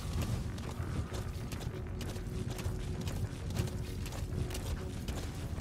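Horse hooves clopping steadily during a ride in Metal Gear Solid 5, a continuous close rhythmic patter over a dense low rumble of game ambience, with no talk.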